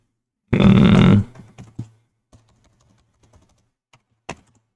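Keys pressed on a computer keyboard while entering accounting data: one dense close burst of clatter, then a scattering of sparse, quiet individual clicks.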